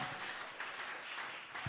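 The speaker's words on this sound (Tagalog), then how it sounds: "Palakpakan natin ang malakas na palakpak." A church congregation at a JMCIM preaching service breaks into loud applause, a dense, continuous wash of clapping heard from a distance.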